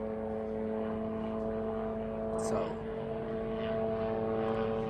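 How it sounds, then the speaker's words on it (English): Helicopters circling overhead in a city neighbourhood, a steady low droning rotor and engine noise filling the background while someone speaks briefly. "there's a shitload of choppers right now looking for somebody"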